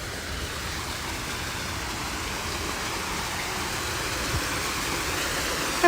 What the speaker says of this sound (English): Here you can hear the waterfall.